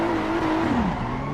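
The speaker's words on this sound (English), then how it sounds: "Wheel spin yet again as we go full throttle straight away." A BMW M4 GT3 Evo in the Assetto Corsa EVO racing game at Laguna Seca spins its wheels under full throttle: a loud, steady engine drone whose pitch sags and sweeps down over about a second, with a raspy tire edge.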